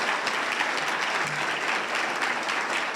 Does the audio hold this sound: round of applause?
yes